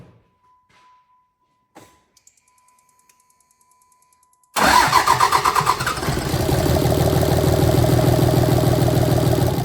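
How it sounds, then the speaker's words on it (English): A 2006 Dodge Ram 2500/3500 with a 5.9 common-rail Cummins diesel sits nearly silent with faint clicks, then cranks and fires about halfway through, settling into a loud, steady, clattering idle. "So now it fires right up and builds rail pressure."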